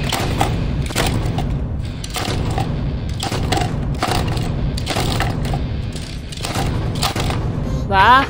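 Repeated heavy crashes and thuds, several sharp impacts in quick succession, loud and close, as cartoon police cars smash together.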